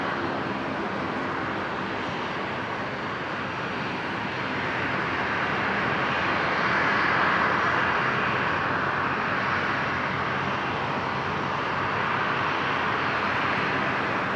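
Qantas 737 airliner approaching runway 01 left at Brisbane Airport, a loud broad engine roar that swells gently toward the middle and stays steady, with no voices.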